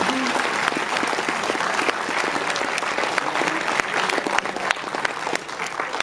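A crowd at a Shootmania Joust gaming tournament final applauds a young player, sustained dense clapping throughout with occasional whoops and crowd voices mixed in.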